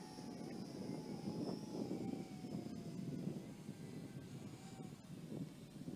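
A JJRC H16 quadcopter drone in flight, a steady faint buzzing whine with wavering pitch heard from a distance over outdoor background noise.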